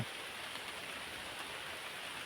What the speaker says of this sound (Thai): ฝนตกแบบนี้นะครับพี่ซี